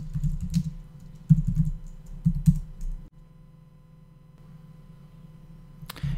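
Close keyboard typing in the console, a quick burst of clacking keystrokes in the first half over a low steady hum, then near silence and a final key click.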